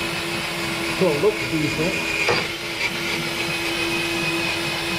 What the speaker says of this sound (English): Try to smooth this weld off with the wire wheel.